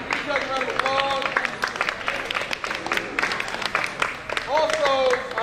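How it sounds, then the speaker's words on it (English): An audience at a school opening-day assembly breaks into clapping and cheering, a crowd of applause heard together with voices and shouts all through. "Give yourself a round of applause."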